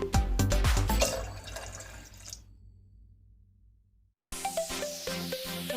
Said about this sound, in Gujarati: બે ગ્લાસ પાણી રેડીશું।